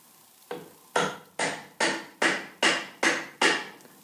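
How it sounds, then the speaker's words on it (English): Hammer blows drive nails straight down through a floating wall's bottom plate into the floor, eight sharp, evenly spaced strikes about half a second apart, close and loud with no talking. "hammer those nails straight down as you can through that hole and solidly into the bottom plate"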